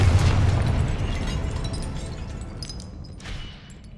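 A Confringo blasting spell detonates in the Hogwarts Legacy video game, a loud booming explosion at the start that rumbles and slowly decays over several seconds, with scattered crackling debris and a smaller burst near the end.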